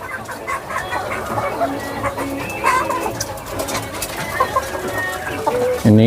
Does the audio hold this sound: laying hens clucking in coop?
yes